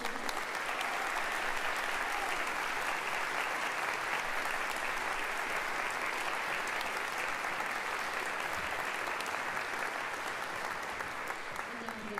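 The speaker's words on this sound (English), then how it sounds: "Let's have one more round of applause for our graduates." Sustained, dense applause from a large audience honouring graduates at a university commencement ceremony, a loud, even roar of clapping that carries on unbroken throughout.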